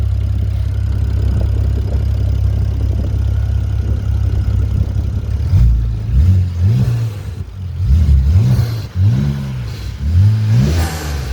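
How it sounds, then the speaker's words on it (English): BMW E90 335i with N54 engine, still warm from a cold start, idling steadily before a series of sharp, close revs rising and dropping in quick succession. "Rev it a bit, please, Masen."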